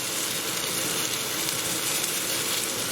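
Sliced bullet chilies, seeds included, sizzle and crackle in a hot pan with garlic and ginger, a dense, steady frying hiss throughout with no voices.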